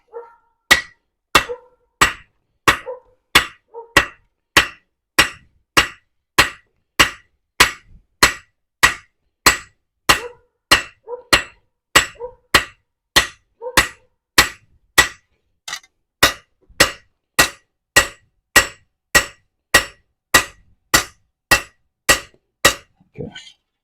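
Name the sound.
hammering steel while forging a knife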